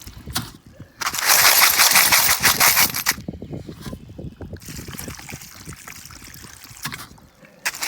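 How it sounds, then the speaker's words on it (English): Dirty clad coins rinsed outdoors, with bursts of splashing, hissing water poured in two main spells and quieter trickling and clinking in the gaps. "And let's rinse it off a bit."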